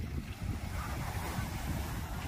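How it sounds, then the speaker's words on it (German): Strong wind at the waterside under sunny skies, a constant rumbling gust buffeting the microphone with a roaring low wash throughout and no talking. "Ziemlich starker Wind, wie man hört."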